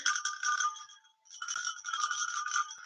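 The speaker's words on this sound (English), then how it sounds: "using this bell, which is a favorite of mine that I found in Nepal a couple of years ago" A metal bell from Nepal, used in Chod practice, rings with bright sustained shimmering tones, sounding alone in two stretches separated by a brief pause.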